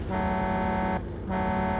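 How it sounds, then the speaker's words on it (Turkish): Sustained electronic-sounding car horn of a tow truck in BeamNG.drive blaring steadily, cut off briefly for a moment, then resuming just as loud. "Oy kornayı kes."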